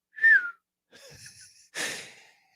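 A voice imitating the whistle of a football thrown by quarterback Dante Culpepper of Central Florida: a short, sharp whistled tone followed by breathy whooshing and hissing sounds, close and alone.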